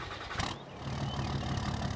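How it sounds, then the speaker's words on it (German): Chevrolet Silverado pickup in Farming Simulator 22 starting at night and settling into a steady, dense idle, heard close with no talk. "Ich starte jetzt mal nur den Motor."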